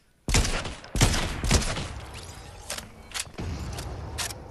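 Gunfire in the Fortnite video game: several sharp, loud bursts of shots at irregular intervals, some rapid clusters, with quieter mechanical clicks and lingering game ambience between them.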